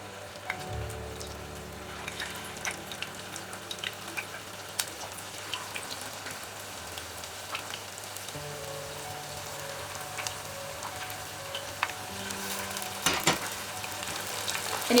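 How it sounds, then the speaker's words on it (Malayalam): Chicken lollipop pieces fry in hot oil, a steady crackling sizzle with scattered sharp pops running throughout, moderately close and alone with no voices. "എണ്ണ ചൂടായാൽ നമുക്ക് ഇതിലേക്ക് ഓരോ ചിക്കൻ പീസുകളിട്ട് ഫ്രൈ ചെയ്തെടുക്കാം."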